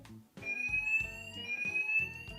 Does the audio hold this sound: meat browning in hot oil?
no